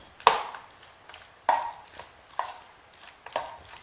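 A spoon mixes potato salad with eggs in a bowl, making a few separate close scraping and squelching strokes spaced about a second apart, with no voices.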